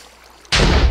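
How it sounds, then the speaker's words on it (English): A combustion engine in Minecraft with the IndustrialCraft mod blows up like a load of TNT: a sudden, loud, close blast cuts into near silence halfway through and roars to the end. "That's like a bunch of TNT there, type equivalent explosion."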